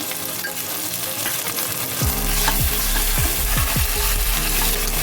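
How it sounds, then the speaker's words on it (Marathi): Ginger-garlic paste fries in a pan, a dense steady sizzle that swells louder midway, with several quick spatula scrapes stirring it, close and without talk. "एक चमचा मी आला लसूण पेस्ट टाकतोय"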